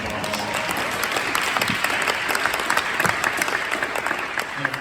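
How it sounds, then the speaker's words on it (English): Lively audience applause fills a townhall meeting on e-bike safety in New York City, with dense clapping and scattered sharper claps sustained throughout. "Give yourself another round of applause"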